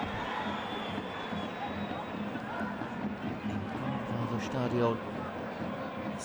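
Football crowd at a 1860 Munich versus Karlsruher SC third-division match, a steady roar of fans cheering in the stadium with a brief louder swell near the end, under a commentator's voice.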